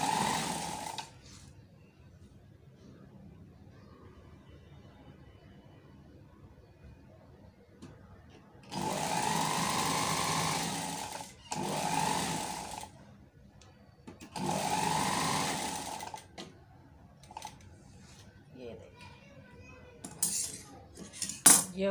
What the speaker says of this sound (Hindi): अब इस पट्टी को हम पूरी सिलाई दे देते हैं